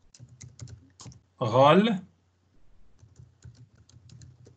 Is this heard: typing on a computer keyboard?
yes